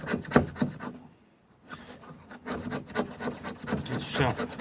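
The 90-degree spine of a knife scraping fatwood into shavings, a series of close, rasping strokes with a short pause partway through, then quicker repeated scrapes.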